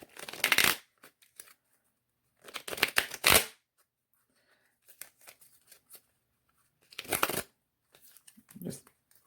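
Sticky tarot cards being shuffled in three loud bursts of riffling, with quiet handling noises in between and a faint voice near the end.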